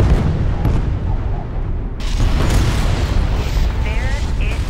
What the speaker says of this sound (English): The charges can be detonated individually or as a group.